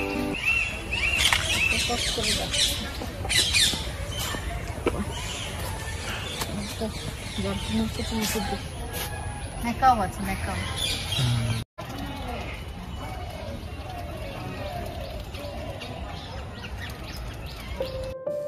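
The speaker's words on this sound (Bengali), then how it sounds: "চারিদিকে পাখির কিচিরমিচির আওয়াজ," Birds chirp and twitter all around at a steady level inside a zoo at Garchumuk, Uluberia, mixed with outdoor background noise and some speech, with a brief dropout near the middle.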